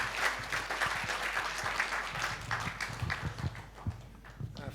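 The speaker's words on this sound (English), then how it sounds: "Ambassador Domichi, a warm round of applause for him." An audience at a business centre launch event claps steadily, a warm round of moderately loud applause with some individual claps standing out, fading slightly toward the end.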